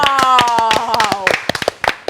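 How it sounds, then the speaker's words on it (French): Scattered hand claps from a studio audience on a French talk show, starting under a speaking voice and thinning out into a few separate, sharp claps at the end. "Applaudissez s'il vous plaît."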